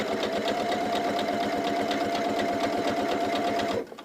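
A sewing machine stitches facing onto a quilt in a fast, even mechanical whir with a steady rapid needle beat, close and continuous until it stops abruptly near the end.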